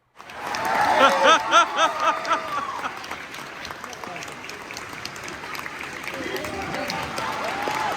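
Crowd clapping for a street performer on a day out in London, starting with rhythmic unison claps that loosen into scattered applause, with voices and chuckles mixed in.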